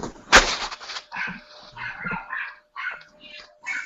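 A dog gives one sharp bark, followed by a run of higher whines and yips, close and moderately loud with short gaps between them.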